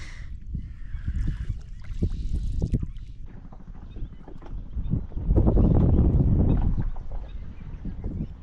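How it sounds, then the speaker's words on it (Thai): Steady wind noise with irregular slapping thumps of water against a small boat's hull, swelling louder midway before easing off. "ลมพัดแรงมากขึ้น ซัดเรือดังตับตับตับตับตับ"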